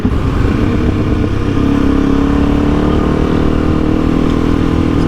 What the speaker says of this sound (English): So this is just from third gear cruising.